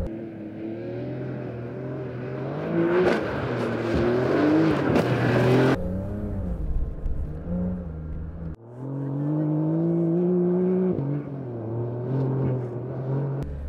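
A Porsche 911 Dakar drives across Sahara desert terrain, its engine loud and close, revving and shifting with rising and falling tones that continue throughout, briefly dropping off before surging again.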